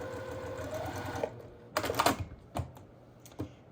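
Sewing machine stitching fabric pieces for a butterfly quilt block, a steady whirring run that stops, followed by a few sharp close clicks and handling sounds.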